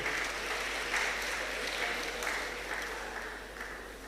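Audience at a national public speaking competition applauding a school, a dense wash of clapping from a sizable crowd in a reverberant hall, steady at first and then gradually tapering off near the end.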